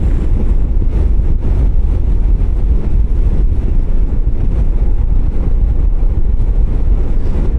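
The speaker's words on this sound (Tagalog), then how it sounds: "sumasampal na yung hangin" Strong wind blows at the Dupinga River in Gabaldon, Nueva Ecija, a loud, unbroken roar buffeting the microphone from start to finish with no voices.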